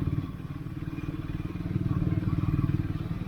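Triumph Scrambler 400 motorcycle engine under way while riding, a steady throbbing single-cylinder exhaust pulse with a slight rise in revs midway, close and continuous with some mechanical clatter.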